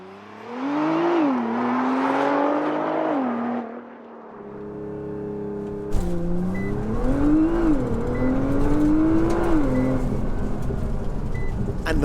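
Nissan R35 GTR Nismo launching hard in a 0-60 run, engine note climbing loudly through gears with brief shift dips, a short idle-like lull, then a second strong rising pull, close and dominant throughout.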